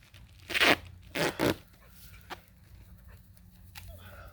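Duct tape rips loudly off the roll in two or three bursts as it is wrapped around a homemade sandbag, followed by softer crinkling and handling sounds.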